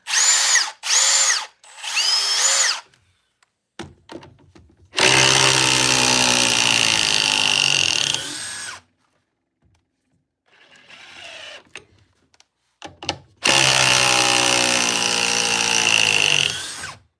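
A Surge Gen 2 cordless impact driver whirs in short bursts, then runs in two long, loud stretches with a rattling, hammering buzz, separated by pauses and faint clicks.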